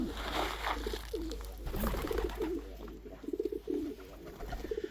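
Pigeons coo in low, rounded bursts, several in a row, fairly close at a pigeon loft in freezing winter weather, over a faint outdoor background.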